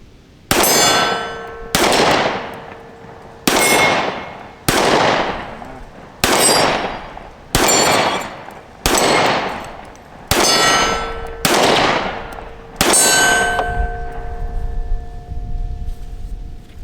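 A 365 pistol fires about nine shots at an even, unhurried pace. Each loud, sharp report is followed by a ringing metallic clang that decays before the next shot.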